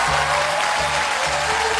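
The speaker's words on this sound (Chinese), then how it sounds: "感谢大家的掌声鼓励。" A theatre audience at a Chinese crosstalk comedy show claps together in a dense, continuous burst of applause. The sound is loud and fills the short stretch, with no voices over it.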